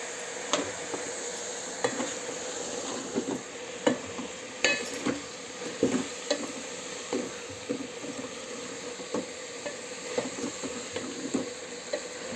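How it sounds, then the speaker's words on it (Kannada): Mushrooms with turmeric powder frying in a pan for a mushroom and potato curry, a steady soft sizzle under repeated scrapes and taps of a stirring spoon against the pan, close and even. "ಮಶ್ರೂಮು ಸ್ವಲ್ಪ ಫ್ರೈ ಮಾಡೋಣ."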